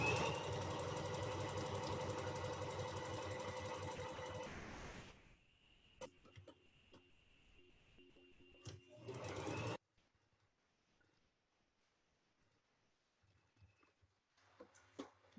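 A sewing machine stitches a fabric face mask, running in a steady loud burst for about five seconds, then pausing for quieter handling and a short second run before falling near silent.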